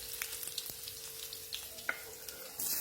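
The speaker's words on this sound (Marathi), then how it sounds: "लसूण आपल्याला छान तेलावर परतून घ्यायचंय" Garlic sautés in hot oil for an Indian brinjal and potato bhaji, giving a soft, steady sizzle with small crackles and pops, plus one sharper spit near the end.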